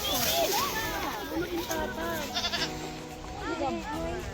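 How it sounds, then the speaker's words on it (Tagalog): Goats bleat repeatedly along a mountain hiking trail near a tattoo village, several wavering cries overlapping at moderate distance, with people talking throughout. "May makakasalubong ka rin mga kambing gaya na to."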